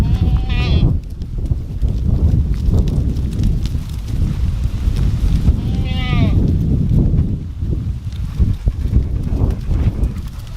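Goats bleat twice, one cry near the start and another midway, over rustling, shuffling hooves and outdoor background noise as they are herded.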